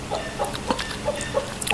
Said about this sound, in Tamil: பாருங்கள், இப்போ உள்ள கோழி இருக்குது.